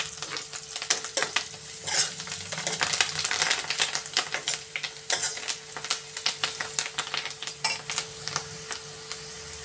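Onions, curry leaves and turmeric sizzle in hot oil for a tempering, a steady crackling fry with frequent scraping and stirring clicks of a spoon close by.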